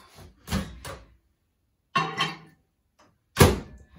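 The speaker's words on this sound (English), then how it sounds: "and we're gonna put it in our microwave." A microwave oven door is handled as a mug cake goes inside: three separate dull thunks spaced over a few seconds, close by and alone.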